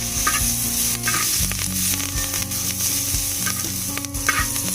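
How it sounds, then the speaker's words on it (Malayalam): Onions, ginger and green chilies sautéing in a pan for a chicken stew, a loud continuous sizzle with repeated rhythmic scrapes and knocks of a spoon stirring close by. "ഇത് എന്നിട്ട് നല്ലപോലെ വഴറ്റി കൊടുക്കാം"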